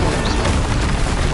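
An Incendio fire spell is cast in the video game Hogwarts Legacy, giving a brief, loud, steady roar of rushing noise with no pause.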